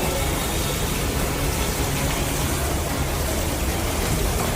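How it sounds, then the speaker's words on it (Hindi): Rainwater pouring like a waterfall from the roof of a Delhi-NCR metro station during torrential rain, a loud, dense, unbroken rushing wash of water with no break. "रूफ से इस तरह से पानी गिर रहा है जैसे कोई झरना हो।"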